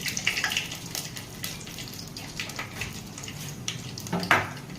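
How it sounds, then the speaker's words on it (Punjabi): Fenugreek seeds and cumin roast in hot oil while a ridge gourd curry is made, giving a steady close sizzle with irregular crackles and a louder spatter near the end, with no talk. "ਹੁਣ ਆਪਾਂ ਤੇਲ ਨੂੰ ਪਾ ਦਿੰਨੇ ਆ ਮੇਥੀ ਦਾਣਾ ਤੇ ਜੀਰਾ ਥੋੜਾ ਜਿਹਾ ਭੁੰਨ ਲੈਣਾ"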